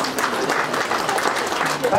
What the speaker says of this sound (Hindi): ल ताली बजाइदिनु होला